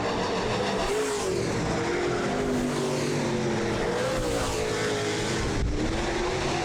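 Late model street stock race cars roar on the final lap of a heat at a weekly oval racing series, a loud continuous engine drone with shifting, rising pitch as cars pass close by.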